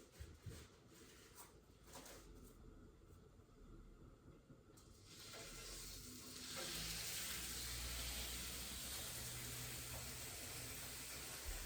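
Flank steak searing in a greased pan over medium to medium-high heat: faint handling scrapes at first, then a steady, hissing sizzle swells up and holds, close and unbroken, with no voices.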